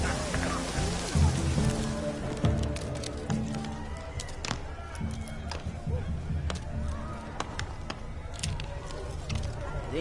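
Rain in a PS4 video game, a steady patter of drops on surfaces with sharper occasional ticks, mixed with other game sounds throughout.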